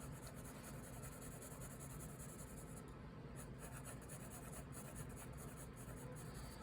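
Soft, steady scratching of a pencil rubbing back and forth on paper, close and quiet, continuous with no voices.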